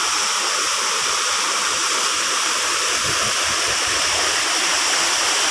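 Alitap Falls pours steadily nearby, a dense, constant roaring hiss of falling water that fills the whole stretch without any voices.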